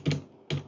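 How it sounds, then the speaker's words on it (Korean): Two crisp clicks as the F10 and Enter keys are pressed on a computer keyboard, spaced about half a second apart, close and clear in a quiet room. "F10 누르고 엔터."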